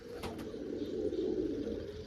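A large jaggery-coloured pigeon and others coo in a low, continuous rolling murmur, close by and steady across the short stretch, with no voices over it.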